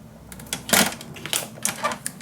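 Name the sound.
paper cutter trimming scrapbook paper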